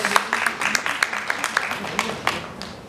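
An audience at a Korean school and community roundtable forum claps to welcome student representatives, a brisk, even patter of hands that stays moderately loud and fades slightly toward the end.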